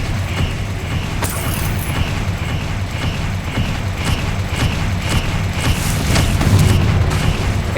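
Repeated fiery spell blasts and booms from Confringo casts in the video game Hogwarts Legacy, a steady series of dull thumps over a rumbling battle bed that swells louder toward the end.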